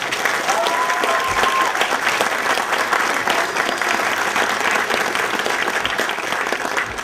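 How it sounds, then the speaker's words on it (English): Sustained, dense applause from a large audience at a 2013 Rancho del Mar High School graduation ceremony, loud and steady for the full stretch without a break. "Give him another round of applause."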